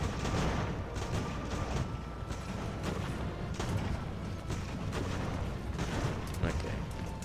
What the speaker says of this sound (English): This cannon is just going to be very annoying.